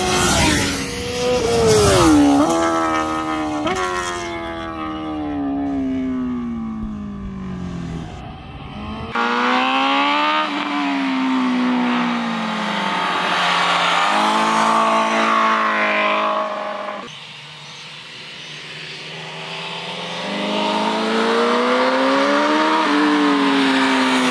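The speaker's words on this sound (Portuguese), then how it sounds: "E o ronco dela nas reduzidas com o quick shifter" Honda CBR 1000 RR-R Fireblade SP engine roaring loud and close, with revs rising and falling through quick-shifter downshifts and sharp cuts between gears, alone without talk.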